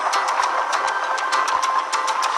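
A cartoon tugboat's engines rev and chug while plowing through thick harbor ice, a steady mid-pitched motor hum with a rapid rhythmic ticking pulse, loud and close with no talk.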